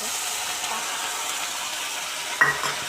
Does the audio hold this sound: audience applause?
no